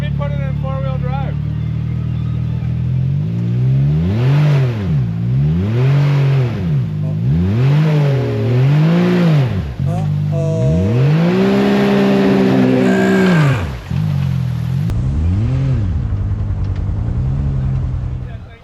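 A UTV engine in four-wheel drive on a West Virginia hill trail loudly rises and falls in repeated swells as the throttle is worked over rough ground, close and continuous.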